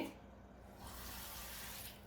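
A soft, steady stream of tap water runs continuously, quiet and close, with no talking.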